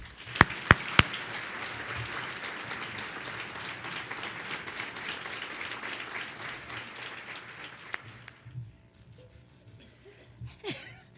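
Sustained crowd applause at the MeckEd 2013 Community Breakfast, greeting the Education Champion of the Year, with a few sharp close claps at the start; the clapping holds steady for about eight seconds, then thins out to scattered claps and room noise.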